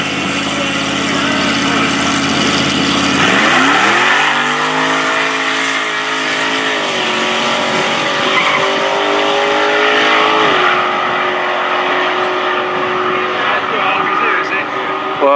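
A Corvette sports car and a pickup truck launch in a drag race at a test-and-tune event at North Weald, engines roaring loudly and rising in pitch through the gears as they pull away, with a commentator talking over the run.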